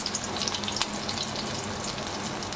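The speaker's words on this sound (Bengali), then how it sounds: "দেখো আমি এইভাবে বড়া শেপে তেলের মধ্যে দিয়ে দিচ্ছি" Egg and spinach fritters (bora) sizzling steadily in hot oil, a dense continuous crackle with fine spitting pops, close and moderately loud, no voices.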